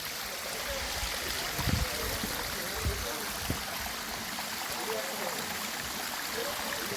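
A stream runs below a waterfall near a living root bridge in the East Khasi Hills of Meghalaya. It makes a steady, fairly faint rushing wash of water with a few soft low thumps.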